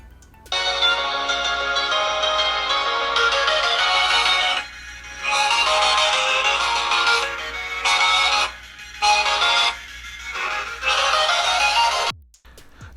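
A bright melodic tune plays from a small phone speaker, loud and steady with several brief pauses, cutting off abruptly near the end.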